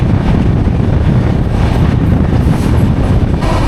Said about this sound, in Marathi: अरे ट्रेन निघली माझी